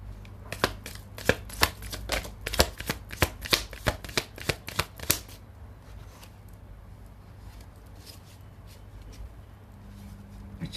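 A deck of playing cards is riffled and shuffled in a run of sharp, rapid flutters for about five seconds, then the room goes quiet apart from faint handling; no one speaks.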